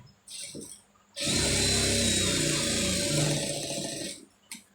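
A sewing machine stitching a sleeve armhole seam: after faint quiet handling, a loud continuous whirring run of stitching lasts about three seconds, then stops, followed by a brief clunk.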